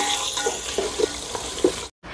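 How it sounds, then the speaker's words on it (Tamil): Shallots, green chillies and curry leaves sautéing in hot oil in a pan, giving a steady close sizzle with a few small pops before it cuts off abruptly. "கருவேப்பிலை இதெல்லாம் நல்லா வதங்கட்டும்."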